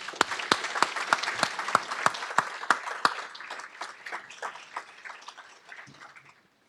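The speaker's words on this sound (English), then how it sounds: "Please join me in applauding our sponsors and donors for their unwavering commitment to this mission." Luncheon audience applauding sponsors and donors, a steady burst of clapping from a roomful of people with a few sharp, close claps standing out, fading away over several seconds.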